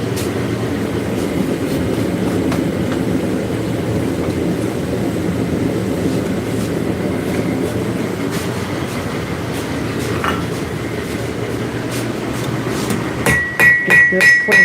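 Steel is forged by hand with hammers on an anvil in a workshop, drawing out distal tapers. A steady rumbling background runs throughout, with scattered strikes and then a quick run of loud, ringing hammer blows at the end.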